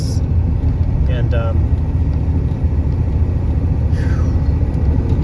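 A 1989 Ford F350 with a 7.3L diesel drives through town at low RPM, a steady deep rumble that stays smooth and even from start to finish, with a couple of brief higher sounds over the top.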